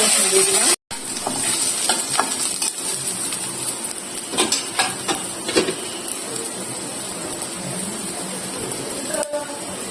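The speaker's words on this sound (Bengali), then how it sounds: "রসুন গুলো রসুনগুলো পুড়ে নেওয়া হয়ে গেল" Garlic fries in mustard oil in a pan, giving a steady low sizzle under scattered clinks and scrapes of a spatula and utensils, heard close up in a home kitchen.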